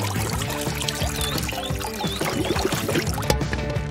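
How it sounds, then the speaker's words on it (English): Water pours into a portable laundry washing bag on a camping beach trip, a steady liquid gush and trickle heard close and continuous. "Just add your dirty laundry to the bag and add water."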